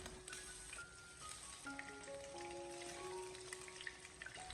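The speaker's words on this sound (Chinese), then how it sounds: "把油烧热以后，我们再将腌制好的鸡翅给它一个个的分散的放进煎锅里面" Marinated chicken wings frying in hot oil in a flat pan, a faint, steady sizzle with scattered small pops and crackles, heard without speech.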